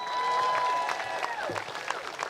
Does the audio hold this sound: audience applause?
yes